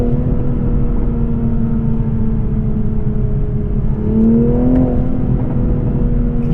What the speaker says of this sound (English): you're going to start getting some burbles.